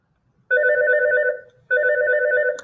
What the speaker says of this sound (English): Of course, I'm going to get a phone call.